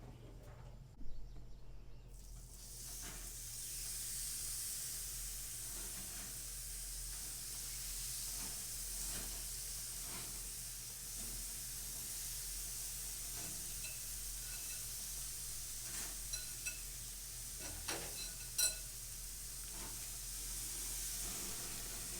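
Seasoned venison backstrap, coated in salt, pepper and olive oil, sizzles on a grill: a steady, soft, even hiss starts after about two seconds and keeps going, with a few faint pops and clicks and no talking.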